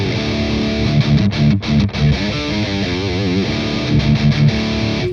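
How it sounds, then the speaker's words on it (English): An electric guitar runs through a poly effects pedal with a custom impulse response, giving loud, distorted chords and bending, wavering sustained notes with brief pauses between phrases. "engaging the poly effects with the custom IR that you can download in the"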